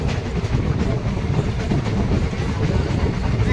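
A Sahid Express train on the Rampurhat–Howrah route pulls out of Sainthia station, a steady loud rumble of wheels and carriages heard from inside the moving train.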